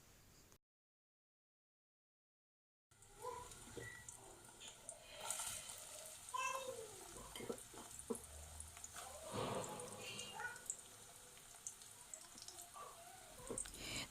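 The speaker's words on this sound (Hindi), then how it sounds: "मैंने वोक में डाला हाफ़ कप के जितना ऑयल और उसके अंदर मैंने अपने स्लाइस्ड अनियंस को डाल दिया और अब मैं इनको फ्राई कर रही हूँ" Sliced onions sizzle in about half a cup of oil in a wok, a soft continuous hiss and crackle close by that starts after a brief silence, with a few small clinks.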